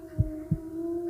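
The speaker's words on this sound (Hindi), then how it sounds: "सिर्फ मेरी दिल की धड़कन उस सन्नाटे को चीर रही थी।" A heartbeat sound effect in a horror story, two soft, low thuds close together over a steady, faint hum, with no voices.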